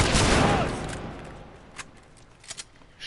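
A loud burst of gunfire erupts in The Last of Us, decaying over about a second, followed by a few quieter, scattered shots and impacts.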